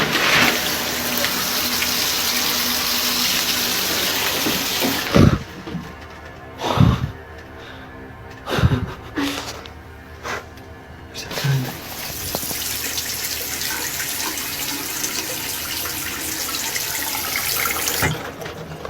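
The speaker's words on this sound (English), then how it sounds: "The shower turns on by itself, then the faucet." Water from a bathroom shower and faucet gushing steadily and loudly, broken midway by several abrupt splashes and surges, then settling back into an even running stream.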